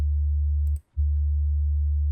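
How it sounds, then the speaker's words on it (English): A synthesized sine wave sub bass note sounds as a loud, pure, very low steady tone, briefly cut to silence with a faint click before resuming and sustaining. "if you track the track the note section here to the level of your sine wave"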